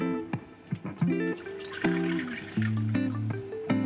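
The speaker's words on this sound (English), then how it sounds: "I'm gonna put a 1 cup of coconut milk and then the thick coconut milk and 3 cups of water in the pan." Water poured into a cooking pan for a steamed layer cake, bubbly glugging and splashing with shifting pitch, close and fairly loud with no talking.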